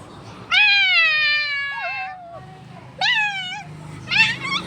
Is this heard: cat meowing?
yes